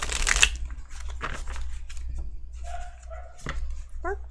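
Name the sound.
dog barking outside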